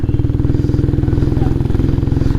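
A motorcycle on a trail thrums close by with a rapid, even pulsing engine beat, loud and steady throughout the short stretch.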